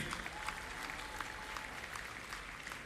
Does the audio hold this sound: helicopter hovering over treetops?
no